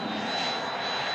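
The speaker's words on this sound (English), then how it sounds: "This jet sounds weird," Steady, loud roar of a jet aircraft engine, broad and continuous throughout with no talk.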